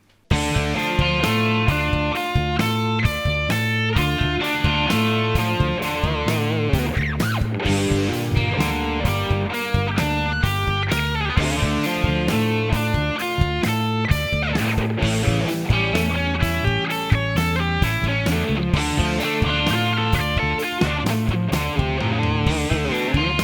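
Distorted electric guitar arpeggios run up and down continuously over a full backing track with drums and bass, loud and dense throughout.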